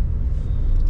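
Dense highway traffic rumbles steadily around a Tata Nexon facelift, with a continuous low engine and road drone and no voices.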